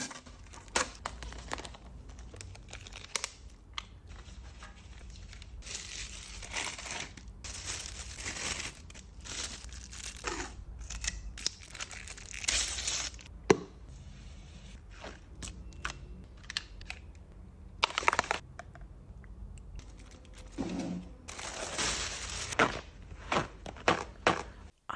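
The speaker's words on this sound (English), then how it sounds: "ASMR, setting up my pink tattoo station." A pink tattoo station is set up in close, quiet detail: plastic crinkling, tearing, tapping and clicking of supplies and packaging in irregular bursts, with no talking.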